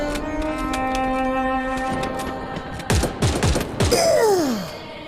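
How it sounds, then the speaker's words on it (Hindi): Video game gunfire from Free Fire: a few sharp shots and short bursts crack over a sustained musical drone, followed by falling whooshing sweeps, loud and near. "रोको, फायरिंग रोको।"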